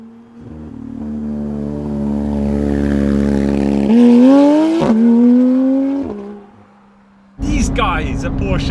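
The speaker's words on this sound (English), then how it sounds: "you've got to be quite hard on the throttle to get that full pit lane sound" Porsche GT3 RS engine held by the pit speed limiter, revving hard in first gear with a rising, stuttering tone that cuts out and surges again, with people talking over the last seconds.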